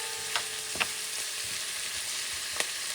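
Sausage with dry oregano sizzles and caramelizes in a pan, a steady frying hiss broken by a few sharp pops and stirring scrapes, with no talk.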